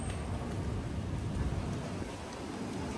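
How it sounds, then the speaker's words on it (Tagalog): Steady rain falls in a continuous dense hiss with a low rumbling undertone, moderately loud and unbroken, with no voices. "Ulan."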